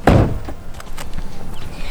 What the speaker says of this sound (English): we have the McLaren doors, of course, so you look like a boss getting out of this car.